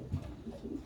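Pigeons cooing softly inside a loft housing about two dozen birds, low murmuring coos rising and falling in a short burst, fairly close with a steady background hum.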